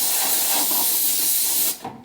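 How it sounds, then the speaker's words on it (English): An 80-gallon, 7-horsepower, 3-stage air compressor running, a loud steady broadband hiss and rush that holds evenly, then drops off abruptly near the end. "fired up the 80-gallon, 7-horsepower, 3-stage compressor"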